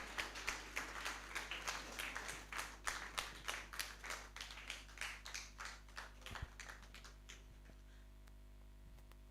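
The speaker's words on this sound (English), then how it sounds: "Please don't stop clapping until she gets here." An audience at a launch event in Ghana claps in quick, scattered bursts that thin out and fade toward the end, with no talk over it.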